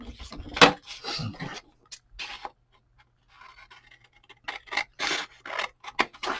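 Paper being trimmed for a journal card pocket on a triple-layer craft pocket, with short scraping, rubbing snips and cuts in bursts, close and fairly quiet, separated by brief pauses.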